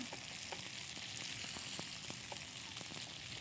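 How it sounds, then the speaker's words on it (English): Onions sizzle steadily in a hot pan right after going in, a continuous bright frying hiss with small pops and crackles scattered throughout, close and alone. "at this point, you're going to put some onions in"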